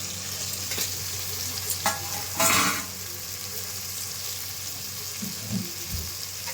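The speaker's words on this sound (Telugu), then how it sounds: "వేసేస్తున్నాం దొండకాయ ముక్కలు." Chopped ivy gourd pieces sizzle steadily in hot oil in a pan, with a sharp burst and a few stirring scrapes rising over the constant frying hiss, close and fairly loud.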